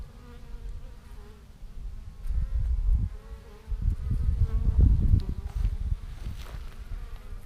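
Honeybees crowd the entrance of a small nucleus hive, bringing in pollen, their buzzing a busy, fluctuating drone that swells and fades as individual bees fly close past, with no one talking.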